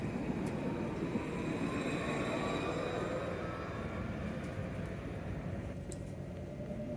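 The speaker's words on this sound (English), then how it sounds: "Let's take the tram back to the apartment." A city tram rolls along its rails with a steady, loud rumble and hiss of wheels and motor, faint high squeals above. The sound carries evenly throughout, with no talking.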